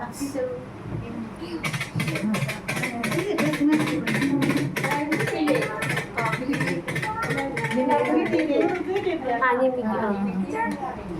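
A voice imitates galloping horse hooves with rapid, even clicks of the tongue, repeated steadily for several seconds beside other vocal sounds.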